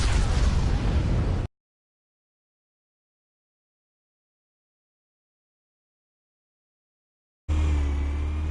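Explosive charge detonating in a Batman video game, a loud burst at the start that cuts to silence, then another heavy rumbling blast near the end.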